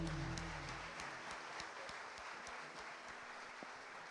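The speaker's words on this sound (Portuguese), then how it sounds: "Você pode aplaudir ao Senhor" A church congregation at a Sunday Bible school service claps for the Lord, a soft, steady patter of applause heard at a distance, with a fading sustained musical tone at the start.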